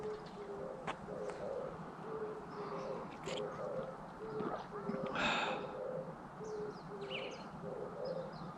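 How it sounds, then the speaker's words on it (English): Out on a Tokyo allotment, a wood pigeon coos in a repeating rhythmic phrase at middle distance. Its soft, low calls sit over a constant outdoor background hum, and other birds chirp faintly now and then. "Can you hear that wood pigeon"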